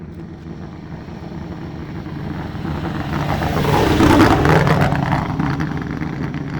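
A race car in the Vegas to Reno race drives past, its engine swelling from a distance to a loud roar at the nearest point and then easing off slightly, with no talk.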